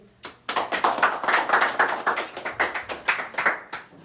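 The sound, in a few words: friends clapping hands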